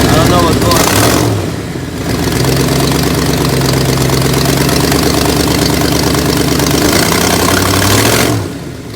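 A 1990 Ford Mustang engine idling roughly close by, a loud uneven rumble with knocking pulses that sags and surges as if about to stall, with brief talk at the start and end.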